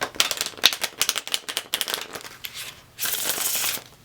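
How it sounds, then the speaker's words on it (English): Tarot cards being shuffled close by, with rapid riffling and flicking bursts in an uneven rhythm and a longer continuous riffle near the end; no talking. "That's how I shuffle my cards."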